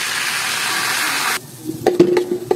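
Flour sautés in margarine in a pan for fried-chicken gravy, giving a steady close sizzle that suddenly cuts off. A few clinks and stirring knocks follow.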